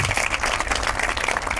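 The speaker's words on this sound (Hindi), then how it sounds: "एक बार जोरदार तालियां राजेश्वरी के लिए" Audience applause for Rajeshwari, a Tamil Nadu student ranked second, at a Jawahar Navodaya Vidyalaya recognition event; brief, dense, steady clapping at full volume throughout.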